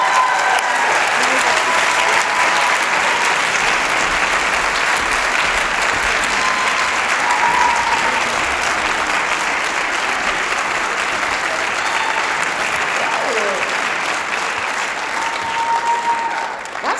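Sustained, loud audience applause for Youth Poet Laureate Amanda Gorman at an awards event, dense clapping from a large crowd continuing unbroken and steady throughout.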